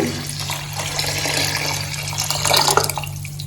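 Coconut milk and mutton stock poured into a biryani pot make a continuous close liquid splash and trickle that grows fuller toward the end.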